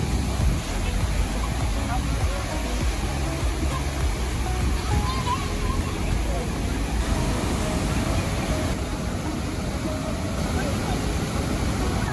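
A roaring waterfall swollen by monsoon rain near Ranchi gives a continuous, dense rush of water, loud and unbroken throughout.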